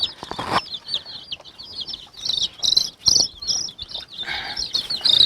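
A hen clucks close by among newly hatched Ligorin chicks, with sharp, high chirps and peeps coming in irregular bursts over short gaps.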